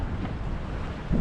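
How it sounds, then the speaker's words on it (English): Wind buffets the microphone on a sailing boat off Spain as big rolling waves wash past, a dense, continuous roar with a brief louder gust at the very end. "big old rolly waves coming in too"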